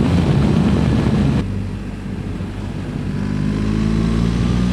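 A loud tractor roars nearby, then recedes after a moment, leaving a lower steady engine drone that slowly swells again as it passes.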